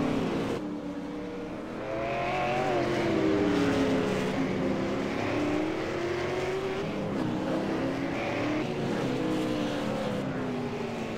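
Race car at Okayama International Circuit in iRacing, engine revving up and down through the gears with shifting whines and throttle blips, loud and continuous.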